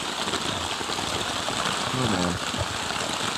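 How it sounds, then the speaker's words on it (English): Heavy jungle rain pours down all night as a torrential downpour, a dense steady hiss of water drumming on a tarp and hammock shelter, close and loud, with a man briefly exclaiming over it. "it's raining so hard right now that my tarp actually came flying down"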